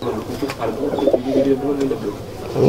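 Soft, low pigeon cooing in short repeated phrases, close by, mixed with light background noise and some talk.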